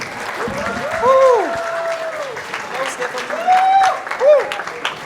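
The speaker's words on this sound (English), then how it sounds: "One round of applause, please, for Stephanie." Applause at a university international dinner, steady crowd clapping from a room of people, with a voice speaking over it in a tonal, sing-song manner.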